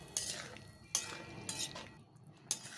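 Spoon stirring soybean chilli sauce with water in a pan: four soft scraping strokes spaced at a steady, unhurried rhythm, close and quiet, with no talking.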